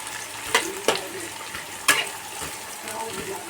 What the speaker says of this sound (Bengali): এবার কুচিয়ে রাখা পেঁয়াজ, কাঁচা লঙ্কা, ক্যাপসিকাম এটা আমি একদম হাত কমিয়ে হালকা কাঁচা গন্ধটা চলে যাওয়া পর্যন্ত আমি এটা ভেজে নেব।